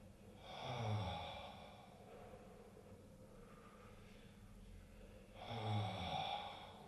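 Slow, audible mouth breathing during a somatic stretch, two deep drawn breaths about five seconds apart with quieter airflow between, close and soft with no talking.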